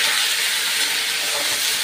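Coriander, dried red chillies and other ingredients sizzle in hot oil, giving a loud, steady broadband hiss.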